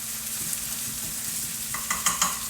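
Garlic and vegetables sizzling in a pan for hibachi chicken, a steady soft fry with a faint hum, then a few sharp clinks and scrapes of a utensil stirring near the end.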